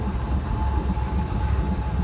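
A passenger train with a diesel locomotive rolls past at an Uzbekistan-route station, giving a steady low rumble with a faint tonal whine. The sound is continuous and moderately close, with no talking.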